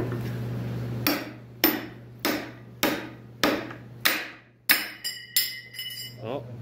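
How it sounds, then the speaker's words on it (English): Seven heavy metallic blows from a big hammer strike a welded-in heavy equipment bushing at irregular intervals over a steady low hum, the last few giving off a bright clinking ring. "it's welded in there proper like. Of course, big hammer."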